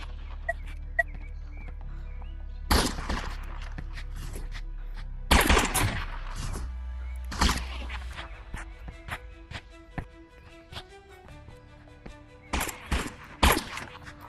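Sniper rifle shots ring out in the Animal Rivals video game, with sharp loud cracks spaced apart that come singly or in quick pairs over faint game ambience.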